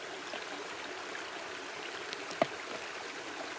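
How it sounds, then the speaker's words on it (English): A stream flows beside a hiking trail in New Hampshire's Frankenstein Cliffs and Arethusa Falls area on a warm, muggy day, giving a steady, soft rushing wash of water with one brief sharp click partway through. "there's a stream coming up, we're going to refill our water"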